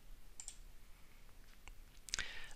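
A computer mouse clicks while navigating Gmail settings: faint, sharp clicks, one early and a brighter double click later, over quiet room background.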